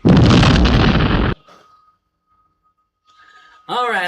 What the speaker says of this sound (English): Needed a good explosion.